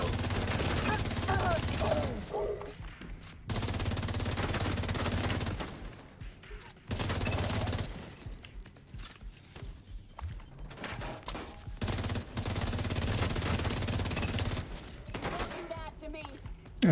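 Video game gunfire comes in long, loud sustained bursts of rapid shots, cut by short gaps of near quiet, and voices talk faintly underneath.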